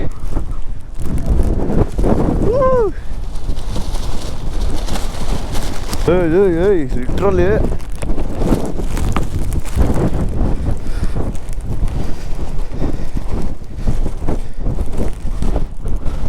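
Strong monsoon wind buffets the microphone during a motorbike ride in rainy Chikmagalur, a loud, constant low roar and rumble that persists throughout while a voice talks briefly over it.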